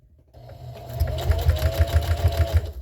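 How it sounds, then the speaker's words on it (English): Sewing machine stitching fabric for a jar gripper, starting up and running in a short fast burst with a rhythmic mechanical chatter, close and loud. "I'm just going to sew 4 or 5 stitches, back stitch, sew, back stitch."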